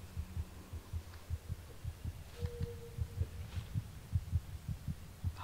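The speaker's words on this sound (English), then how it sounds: "was with those heartbeats again?" Heartbeats thud in the horror game Among The Sleep, a steady, low double-pulse repeating around twice a second over a faint hum, fairly quiet and with no talking.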